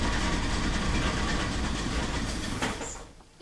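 An AMC Eagle with a 258 engine idles steadily, a dense rumbling drone that stays loud and close before easing off near the end, with no voices.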